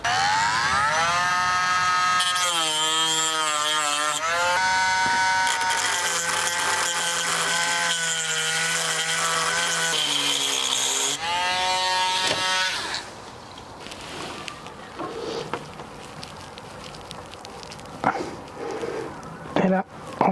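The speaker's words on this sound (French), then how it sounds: "je vais utiliser ce qu'on appelle une Dremel, donc c'est un outil multifonction" A Dremel multifunction rotary tool with a grinding disc cuts into a door lock cylinder, whining loudly in steady tones that shift pitch under load, then gives way to scraping and clicks as someone speaks.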